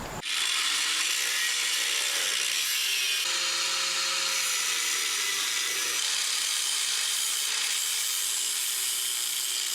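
Steady, loud sawing cuts through the axle tower of a Ford Maverick, a continuous harsh rasp running nearly the whole time with only brief changes in pitch and no pauses.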